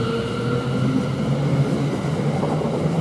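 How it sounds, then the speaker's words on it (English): A Greater Anglia passenger train, the London Liverpool Street to Colchester Town service, pulls out of Chelmsford station with a moderate steady rumble and a low electric motor hum. It is heard from the platform with no voices. "Now the Greater Anglia, the 1310 from London Liverpool Street to Colchester Town is just departing."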